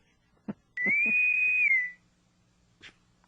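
A single sustained whistle rings out clear and fairly loud for about a second, gliding slightly in pitch, preceded and followed by brief soft knocks.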